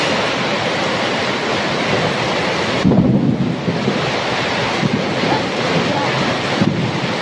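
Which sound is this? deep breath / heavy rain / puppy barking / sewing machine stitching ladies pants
heavy rain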